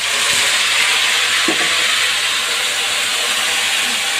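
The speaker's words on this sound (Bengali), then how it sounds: "তেল ছুটতেছে," Hot oil sizzles and hisses steadily in a pan while ambarella pickle cooks, a loud, continuous frying hiss with a few faint clinks and stirring sounds underneath.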